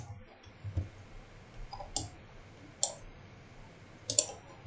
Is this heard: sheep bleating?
no